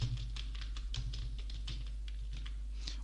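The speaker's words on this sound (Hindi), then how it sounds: "उसके बाद में डबल कोटेशन मार्क टाइप करेंगे" Rapid typing on a computer keyboard while a spreadsheet formula is entered: an irregular patter of soft clicks at close range, quiet and unbroken, with no voice.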